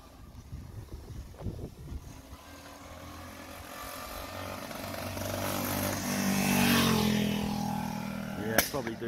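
A Honda CF70 Chaly motorbike with a 3-speed automatic runs while being ridden, its small engine droning and rising in pitch with wind noise, amid a sharp click or knock near the end.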